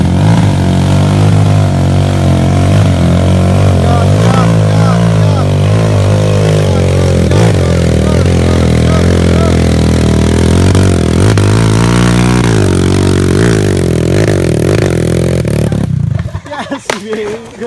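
Enduro trail motorcycle laboring up a steep hill climb, engine revving hard and fluctuating with throttle for a long stretch, loud and close, with clatter and shouting voices around it before the engine cuts off abruptly near the end.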